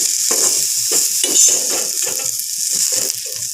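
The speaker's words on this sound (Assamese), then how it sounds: "এয়া চাওক, পুনৰ মই একেখন কেৰাহীতে অলপমান তেল দিছোঁ আৰু তেলখিনি গৰম হোৱাত ইয়াত মই কাটি ৰখা পিঁয়াজ দিছোঁ" Chopped onions fry in hot oil in a kadai, giving a steady close sizzle with rhythmic stirring scrapes throughout, no voices.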